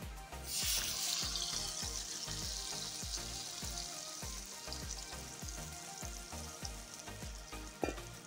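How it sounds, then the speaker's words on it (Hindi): Batter poured over browned onions in a hot pan for pakora kadhi, Uttarakhand style, sets off a loud, steady sizzle with a rhythmic scraping of stirring throughout and a sharp clink near the end. "प्याज हो गया है ब्राउन अब मैं इसमें ऐड कर दूँगी ये बैटर जो मैंने तैयार किया है"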